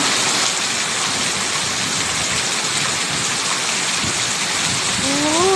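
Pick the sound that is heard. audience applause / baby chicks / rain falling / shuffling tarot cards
rain falling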